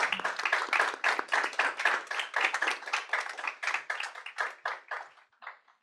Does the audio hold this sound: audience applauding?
yes